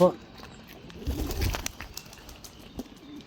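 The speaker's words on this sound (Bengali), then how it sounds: "সবগুলা কবুতরই ভালো আছে" Pigeons coo softly amid faint rustling and background noise, with a brief loud call at the very start.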